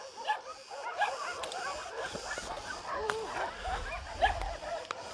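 Several shelter dogs bark and whimper at a distance in the cool evening as they wake and play, a faint, scattered chorus of yips over a quiet outdoor background.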